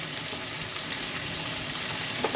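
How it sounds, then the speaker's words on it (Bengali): Potatoes frying in hot oil with turmeric, a steady close sizzle and crackle running evenly throughout with no talk. "আলুগুলো লাল করে ভেজে তুলে নেব"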